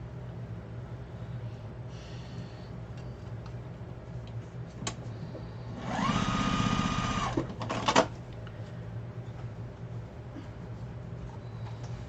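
A sewing machine stitches pillow pieces together in one steady, close run of about a second and a half, then gives a short second burst. Quiet room tone surrounds it.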